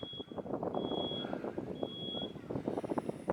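An electronic alarm sounds in long, high, piercing beeps that repeat at intervals over a dense, rumbling background, fairly distant and not very loud.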